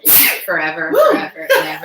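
A single sharp, loud sneeze up close at the start, followed by people talking.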